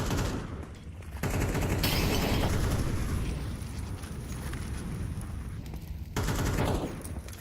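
Dense gunfire from a Counter-Strike firefight on the Ancient map at a Major esports match, with sustained bursts and rattling shots throughout and louder flurries near the start and end.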